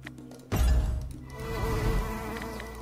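Buzzing bees sound effect from an online slot game, a sudden thump followed by a humming, fluttering insect drone that swells and fades over a couple of seconds with no talk.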